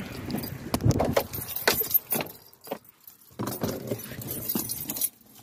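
Keys jangling near a car, loud metallic rattles and clinks in short bursts with a brief quiet gap in the middle, close up.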